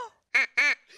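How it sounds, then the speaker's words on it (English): Two loud, nasal duck quacks in quick succession, close up, with a brief softer call at the start and a faint one at the end. "we can certainly have you quacking like a duck"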